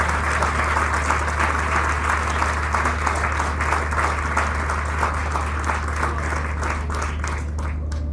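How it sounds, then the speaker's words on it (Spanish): Loud, sustained applause from an audience at an agricultural expo talk, with dense clapping that stays steady throughout and thins slightly toward the end over a low background hum. "Acá pueden aplaudir de vuelta."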